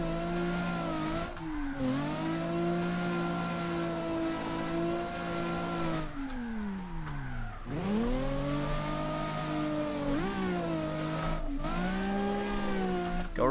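Simulated car engine in CarX Drift Racing Online played with a wheel on Xbox One, a strong sustained drone that rises and falls through repeated revs, gear shifts and deep dips, close and loud with tire-squeal character.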